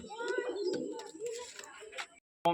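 Pigeons coo in soft, repeated throaty phrases at close range during a morning visit to a pigeon loft, ending abruptly in a brief clunk.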